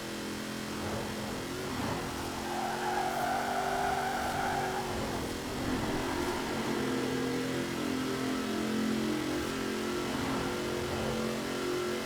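A car driving offroad in the racing game Forza Horizon 4 hums with a steady mid-pitched engine drone that rises and falls as it revs, continuous and fairly loud with no talk.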